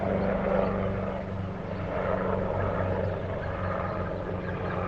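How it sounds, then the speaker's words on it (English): A helicopter flies over a golf course during a professional pairs matchplay final in Dubai, its steady low rotor and engine drone holding fairly loud and even for the whole stretch with no talk. "The helicopter's flying."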